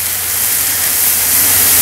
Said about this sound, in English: That hot water steaming in there breaks it up.